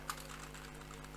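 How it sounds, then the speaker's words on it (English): Fingers tapping on a computer keyboard, a quick run of soft, close keystrokes over a steady low electrical hum. "I'm going to type, this is my favorite sentence"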